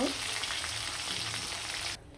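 River snakehead fish frying in hot oil, a dense, steady sizzle close up that cuts off abruptly near the end.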